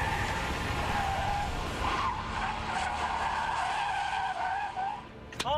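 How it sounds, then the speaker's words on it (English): Car tires squeal and skid loudly through a driving challenge on a closed course, a steady screech with engine noise underneath that wavers and fades near the end. "Oh, I smoked the tire."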